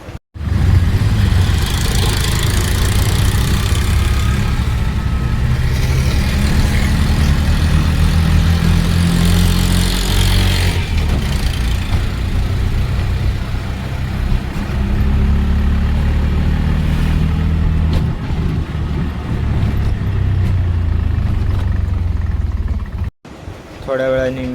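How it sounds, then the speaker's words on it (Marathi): An auto rickshaw engine hums steadily and close, with a heavy low drone, during a night ride away from a railway station. Ongoing road noise fills the ride, and a brief dropout comes near the end. "स्टेशनच्या बाहेर येऊन मी फटाफट रिक्षा पकडली, रिक्षात बसलो आणि निघालो."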